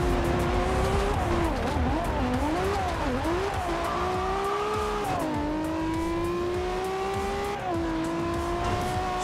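Car driving in the racing video game Forza Horizon 2, a loud engine revving and shifting pitch as it accelerates, with long tire squeals sweeping up and down through turns.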